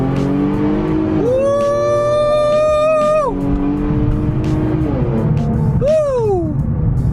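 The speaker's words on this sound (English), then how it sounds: "Let's just do a little pull for you guys so you can see how fast the car really is." An Infiniti Q60 engine revs hard through rising gears, each shift dropping the pitch before it climbs again, loud and close with a final sharp rev.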